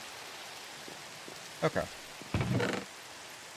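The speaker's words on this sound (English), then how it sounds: "And it's raining." Minecraft rain makes a constant, fairly quiet wash of hiss in the background. Someone briefly speaks over it twice, near the middle and toward the end.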